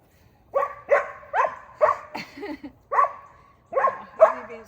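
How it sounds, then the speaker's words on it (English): A dog named Coda barks in a quick, uneven series of about eight sharp, close, loud barks, with no talking. "I've never heard Coda bark."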